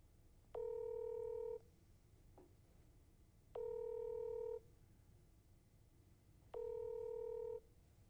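A telephone call rings out without connecting: three evenly spaced one-second ringback beeps repeat every three seconds over a faint, quiet background.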